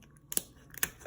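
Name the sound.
scissors cutting lobster shell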